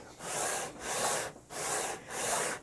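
A wooden guitar neck being sanded with 40-grit 3M green-core sandpaper on a 12-inch radius block, four close, rhythmic back-and-forth rasping strokes with short pauses between them.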